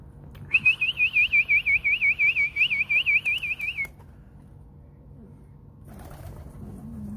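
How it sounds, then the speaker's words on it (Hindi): A pigeon gives a rapid run of whistling, warbling calls for a few seconds, then a quiet rooftop scene with faint background noise follows. "तो व्यूअर्स देखिए उड़ा दिए 2 कबूतर।"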